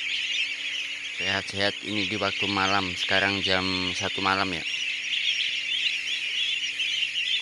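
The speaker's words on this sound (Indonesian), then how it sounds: "Ini baik angsa bebek peking kita" At one in the morning, geese and Pekin ducks in a breeding pen give a run of loud, nasal honking calls that lasts a few seconds. Someone speaks over a constant high-pitched buzz.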